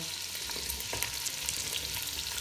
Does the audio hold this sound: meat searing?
yes